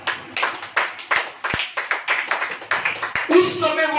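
Church congregation clapping hands in unison, loud sharp claps in a brisk regular rhythm, with a voice speaking over and between the claps.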